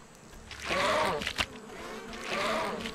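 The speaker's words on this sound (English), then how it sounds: "There's a bee there somewhere." A bee in ARK Survival Ascended buzzes in two swelling passes, close and moderately loud, with a short sharp noise between them.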